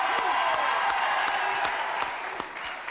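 A television studio audience breaks into steady applause for the performer after a song, a dense wash of many hands clapping that slowly thins toward the end.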